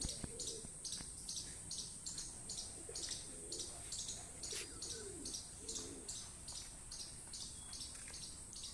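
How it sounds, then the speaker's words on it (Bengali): Bihari pigeons coo softly in short repeated bursts, faint and a little distant, under a steady high pulsing chirp of insects or small birds. "এই যে কিছু পায়রা রয়েছে, এগুলো বিহারি পায়রা আছে"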